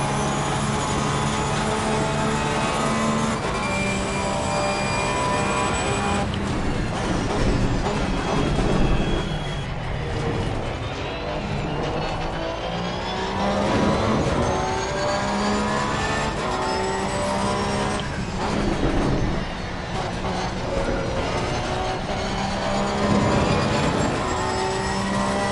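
Race car engines, including a Ferrari, roaring in Assetto Corsa Competizione at Monza: a continuous high-revving engine drone with rising and falling pitch through gear changes, loud and close, with no talk.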